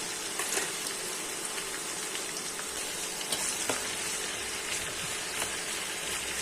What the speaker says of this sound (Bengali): গরম তেলে দিয়ে দিচ্ছি পেঁয়াজ কুচি